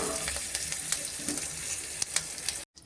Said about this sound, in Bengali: এর মধ্যে একটু শুকনো লঙ্কা কুচনো দিয়ে দিলাম, দিয়ে সামান্য নেড়ে